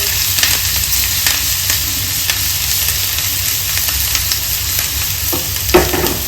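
Green chillies frying in hot oil on high heat for soya chilli, a loud, continuous, close sizzle with occasional stirring scrapes and a sharper clatter near the end; no voices.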